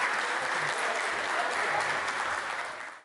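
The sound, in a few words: audience applause at club farewell ceremony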